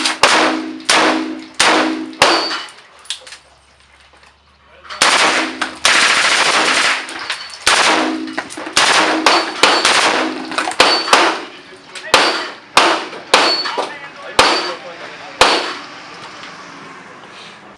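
An Umarex Legends M1A1 Tommy gun air gun fires repeated full-auto bursts outdoors in winter. Loud, rapid bursts carry a metallic ring, with short gaps between strings of shots.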